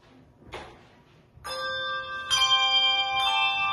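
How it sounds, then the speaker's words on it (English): Church bells ring out on Christmas Eve in three clear, resonant strikes about a second apart, each one sustaining and overlapping the next, preceded by a faint knock. "And now we turn to the real bells."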